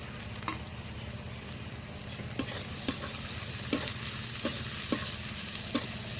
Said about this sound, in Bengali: আবারও কিছুক্ষণ ভেজে নেব